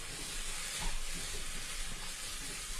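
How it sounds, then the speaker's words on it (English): Potatoes sautéing in a pan for an Italian pasta e patate, a steady broadband hiss and sizzle running evenly throughout with no talk. "Let them saute"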